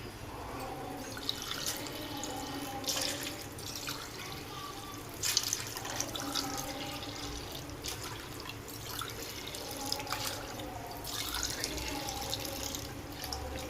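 Water pours and splashes into a pot of soaked rice for prawn biryani. The flow is soft, close and uneven, with small gurgles and drips and no talking over it.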